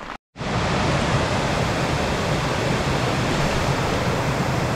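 Heavy rain pours on a mountain trail on the trek to Gosaikunda, a dense, unbroken roaring hiss that begins after a brief silent gap and stays loud and close with no voices.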